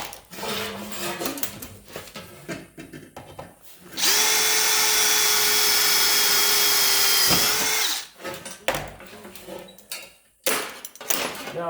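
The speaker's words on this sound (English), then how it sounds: "I'll go ahead and I'll drill them out bigger." A power drill bores out holes for a homemade battery tray. It runs in one loud, sustained burst of a few seconds, framed by quieter handling clatter and knocks before and after.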